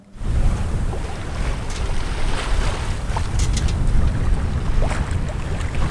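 A sailboat heading out of Falmouth at about 5.5 knots, with a steady loud rush of wind and water against the hull and occasional splashes, continuous throughout.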